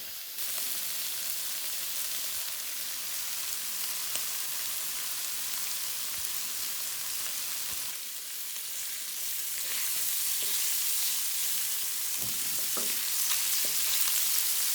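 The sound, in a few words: Polish sausage, peppers and onions frying in a skillet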